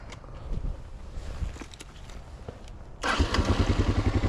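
A Kawasaki KLR motorcycle with a broken clutch perch, near a West Texas lake. The engine idles unevenly at first, then goes into a louder, steady rhythmic chug about three seconds in, heard up close.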